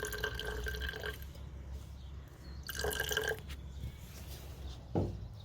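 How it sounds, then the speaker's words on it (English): Water poured into a jar of tomato seeds and pulp, two trickling pours into the glass a second or so each, then a short splash near the end, close and fairly quiet. "we are going to add about the same amount of water."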